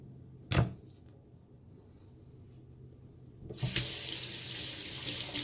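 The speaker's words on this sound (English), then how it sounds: "Make sure you wash your hands after handling it." Water runs steadily from a sink tap as hands are washed beneath it, starting with a brief splash and then a loud, continuous gush close by for the rest of the moment, with no talking.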